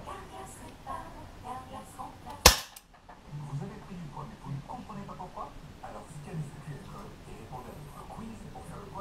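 A single sharp, close shot from an Artemis CP400 air pistol firing a JSB Exact RS pellet cracks once, then quiet handling noises and someone speaking French continue.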